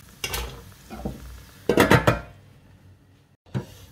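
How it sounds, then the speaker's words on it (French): Diced potatoes stirred in a pan for pan-fried rissolé potatoes: a few brief scraping, clattering bursts of utensil on metal, a louder cluster midway, then a short clunk as a lid goes on, no voices. "On va mélanger une dernière fois. Et on va couvrir."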